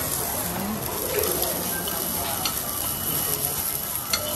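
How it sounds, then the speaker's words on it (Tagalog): Hamburger steak sizzling hard on a hot plate, oil spattering in a steady loud crackle throughout, with faint voices underneath. "Sobrang lakas ng talsik ng mantika."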